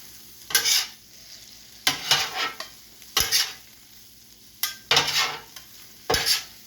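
Peppers and onions frying on a Steelmade griddle, with a steady low sizzle broken by five or six loud bursts of spatula scraping and stirring at regular intervals, close up with no voices.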